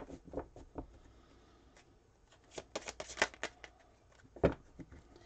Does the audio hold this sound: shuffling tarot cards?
yes